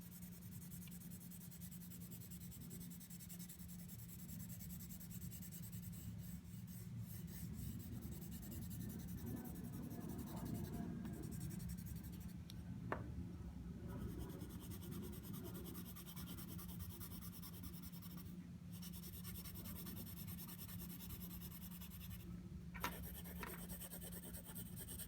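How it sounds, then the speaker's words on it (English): A pencil shades on paper, its side rubbing in a soft, continuous scratchy whisper with occasional brief pauses and small taps, faint and close. "use the side of your pencil for softer effects"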